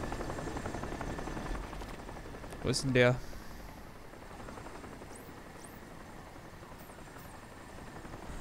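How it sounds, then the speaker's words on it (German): A helicopter drones in the video game Crysis, its continuous rotor hum running steadily under someone speaking German, with a brief burst of game noise midway. "Können wir den Heli irgendwie ausmachen?"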